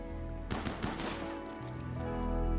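A short burst of video game gunfire, several quick rapid shots cracking over a steady humming game backdrop that swells slightly at the end.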